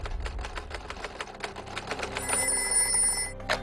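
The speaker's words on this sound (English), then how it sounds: "Each day, the phone rings frequently in Edward Little's office." An office telephone bell rings in a rapid mechanical trill, preceded by a fast rhythmic clatter, moderately close with no talk over it.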